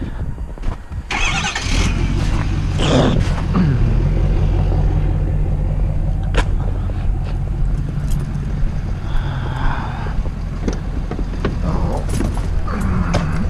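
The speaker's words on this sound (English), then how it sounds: "Get the remote started again." A truck engine runs after a remote start on a snowy day, a steady low rumble throughout, with a few clunks and rattles on top.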